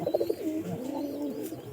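A pigeon coos close by in soft, throaty pulses. A quick burst of short notes is followed by a longer rolling coo, with no talk over it.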